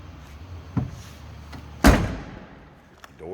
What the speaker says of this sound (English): Doors close and fit nicely.